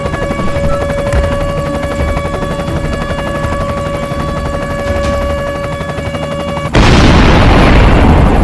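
A helicopter in an animated drama thrums loudly and continuously with a steady rotor whine, then a sudden louder broadband roar takes over near the end.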